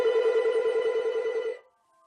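A telephone rings with a steady electronic trill for about a second and a half, then cuts off into near silence.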